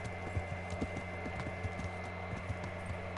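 A horse's hooves clop at a steady, regular rhythm in the medieval game Kingdom Come Deliverance. The hoofbeats are quiet and sit over a low, constant hum, and no voices are heard.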